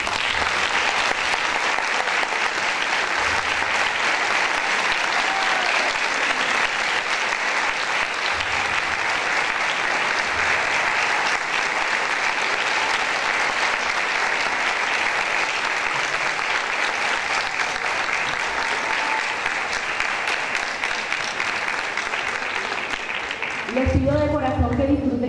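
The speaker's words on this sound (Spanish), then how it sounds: "para quien pido de parte del público un efusivo aplauso" Sustained audience applause welcomes the integrated symphony orchestra of Aragua State at a concert, a dense, steady ovation that fills the hall for about twenty-four seconds before a voice briefly comes in at the end.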